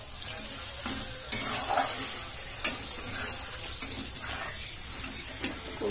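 Egg masala stirred and frying in a pan, with a steady sizzle and a few louder scraping stirs, close by and continuous with no talking.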